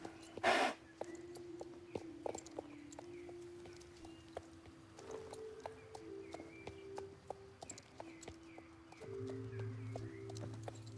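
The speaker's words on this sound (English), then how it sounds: "She did walk really nice and calmly for me out to the trailer" Horse walking calmly out to a trailer on a vet clinic day: a faint, irregular string of hoof clip-clops with occasional soft snorts or breaths, quiet and fairly close.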